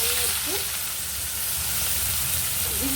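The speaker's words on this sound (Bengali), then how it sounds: "পেঁয়াজগুলো ভেজে নেবো যতক্ষণ না বাদামি রং আসছে" Onions frying in oil with whole garam masala of cardamom, cinnamon and cloves produce a loud, steady sizzle close by, with a couple of faint stirring sounds.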